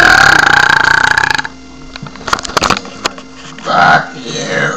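A long, loud, close burp opens, followed by quieter clicks and rustling, then a shorter second belch.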